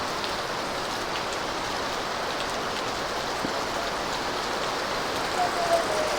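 Heavy rain pours steadily and loudly during a storm, a dense continuous hiss of drops on surfaces with only faint hints of voices.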